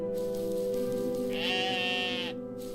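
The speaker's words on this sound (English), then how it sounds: "there's that fucking sheep again" A sheep in the video game OneShot gives one wavering bleat of about a second, clear and fairly close, over a steady humming game soundtrack with sustained tones, and no one talks.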